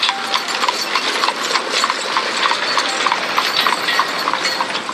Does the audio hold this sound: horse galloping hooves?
yes